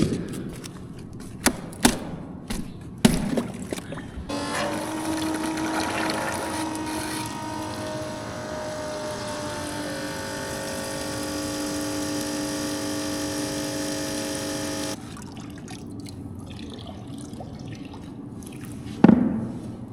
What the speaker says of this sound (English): So I'm gonna pump a little water out of it, make sure the float isn't all froze up.